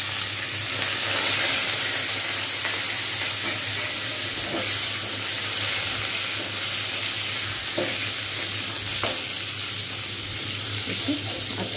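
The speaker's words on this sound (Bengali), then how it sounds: "কাঁচকলাগুলো এর মধ্যে এবারে ঢেলে দেবো।" Raw banana pieces hiss and crackle in hot oil, a steady dense sizzle that carries on evenly with soft stirring scrapes and a low background hum.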